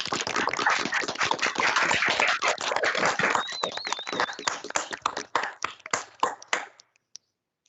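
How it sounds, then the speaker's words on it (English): Applause for thesis advisors at an online university honors thesis symposium, dense clapping at first that thins into scattered claps and stops. "give a round of applause to the thesis advisors"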